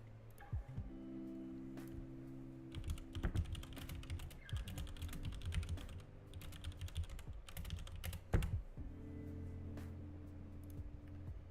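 Keys clatter on a computer keyboard in irregular bursts of quick taps and occasional heavier strokes, fairly close, over a low steady background hum with no speech.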